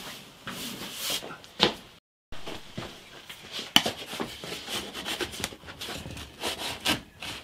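Scraper rasping over wood inside a 50-year-old acoustic guitar during soundboard bracing repair, a string of close, uneven scratchy strokes with a short pause partway through.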